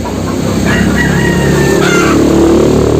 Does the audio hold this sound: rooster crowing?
yes